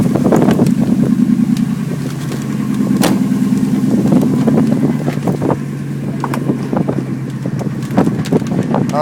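A Ford 5.4 engine idles after a cold start on an icy street at about 21°F, a loud, steady low rumble buffeted by wind noise and scattered clatter.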